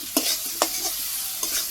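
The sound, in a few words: potatoes sautéing with mustard paste in a pan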